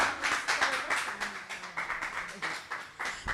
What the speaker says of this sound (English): Please give a round of applause to our panel moderator.